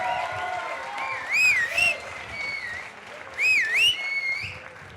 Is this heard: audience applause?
yes